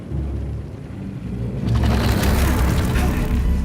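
A blast goes off in the video game Atomic Heart, a deep rumbling boom that swells to a loud, sustained roar and hangs on under layered game noise, with no voices.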